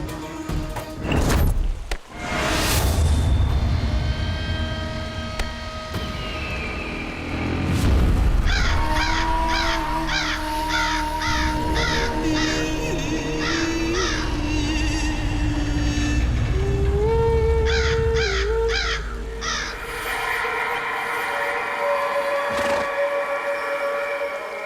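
A bird calls repeatedly in a cartoon scene, its short harsh cries sounding in quick bursts over background music and effects, with no talk.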